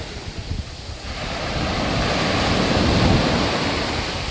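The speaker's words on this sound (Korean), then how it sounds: "아담한 해변이었습니다" Waves wash onto a small sandy beach at Gajin on Korea's East Sea coast. The surf is a steady, broad hiss that swells louder midway, with wind buffeting the microphone and no voices.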